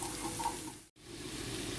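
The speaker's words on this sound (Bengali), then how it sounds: "এগুলা, আমি এখন ব্রাউন করে ভেজে নিব" Tuna kababs browning in hot oil, heard as a faint, even sizzle close by, broken by one short moment of near silence midway, with no talking.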